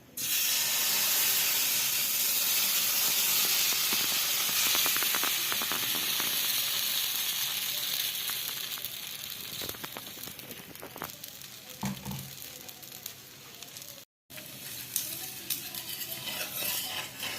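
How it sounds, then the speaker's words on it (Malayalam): Batter poured onto a hot stone dosa griddle greased with sesame oil to make oratti. A loud sizzle starts at once and slowly fades over several seconds, followed by lighter frying crackle with occasional scraping clicks and a brief silent break. "കല്ല് ദോശക്കല്ല് ഒന്ന് ചൂടായ ശേഷം അതിലോട്ട് നല്ലെണ്ണ നല്ലെണ്ണ ഒന്ന് ഇങ്ങനെ പുരട്ടി കൊടുക്കാം അതിന് ശേഷം നമുക്ക് ഇതൊന്ന് ഒഴിക്കാം"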